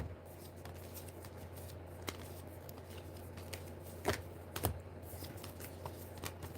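A deck of tarot cards is shuffled in a steady stream of soft riffling and flicking, with a couple of louder snaps, close and quiet over a low room hum.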